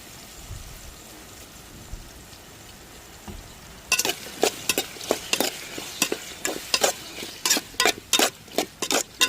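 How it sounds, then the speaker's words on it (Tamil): Tomato, onion, garlic, green chilli, brinjal and potato sauté in hot oil for a fish-head curry. A faint low sizzle runs for about four seconds, then a ladle stirs and scrapes the pan in close, loud, irregular bursts over a steady frying hiss. "தக்காளி, வெங்காயம், வெள்ளைப்பூடு, பச்சை மிளகா, கத்திரிக்காய், உருளைக்கிழங்குலாம் இன்னும் கொஞ்சம் நேரம் எண்ணெயிலே வதங்கி வரட்டுங்க."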